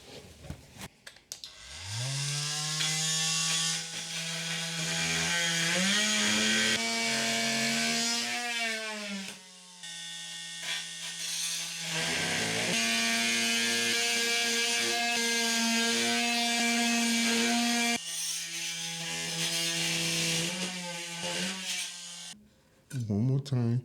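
A cheap AliExpress oscillating multi tool cuts into wood, its buzzing whine rising and falling in speed as it meets resistance, with short pauses between long passes.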